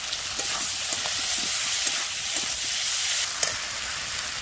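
Broccoli curry is stir-fried in a pan in a village kitchen, a loud, continuous sizzle and hiss with scattered scrapes of stirring, close up.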